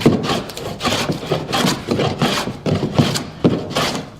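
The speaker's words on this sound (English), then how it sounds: "Just planing away, and you come on to your job." A hand plane shaving along wood in steady rhythmic strokes, each a close, loud rasping swish repeating about every half second with no talk.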